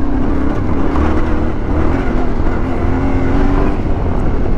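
A Yamaha Ténéré 700 motorcycle, a new 2022 bike still being broken in, runs with a loud steady engine drone and a rough throaty rumble, close to the microphone with no talk.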